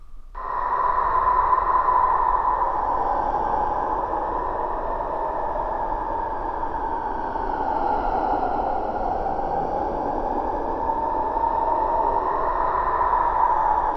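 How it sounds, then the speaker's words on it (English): A breathy, pitched whistle drifts and wavers continuously, processed to sound like wind gusting, steady and fairly loud throughout. "I'm going to play at the pitch so that it sounds like the wind is actually moving."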